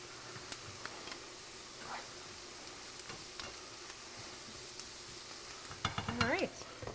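Paddlefish frying in a pan gives a steady, low sizzle. Near the end a brief louder burst of crackling rises.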